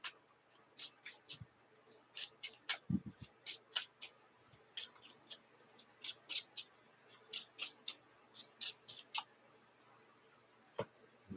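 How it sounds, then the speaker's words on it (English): A Marvel Champions card deck being shuffled and reshuffled on a table, a long run of sharp, crisp riffling clicks and snaps in quick bursts, close and fairly quiet, with no talking. "And we shuffle and we reshuffle."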